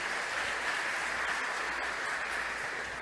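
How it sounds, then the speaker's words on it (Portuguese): Congregation in a church service clapping together, a steady dense wash of applause that holds at an even level throughout. "Vamos aplaudir ao Senhor por isso"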